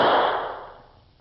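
A single sharp revolver gunshot in an old western radio drama, loud and close, its burst quickly fading into a trailing echo; only one report is heard, not three.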